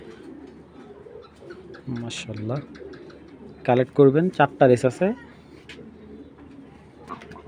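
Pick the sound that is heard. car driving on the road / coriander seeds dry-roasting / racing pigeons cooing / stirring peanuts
racing pigeons cooing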